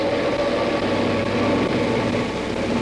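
A 1949 Minneapolis & St. Louis Railway freight train runs along the track, a steady loud rumbling roar with a faint whine on top, continuous and unbroken with no voices.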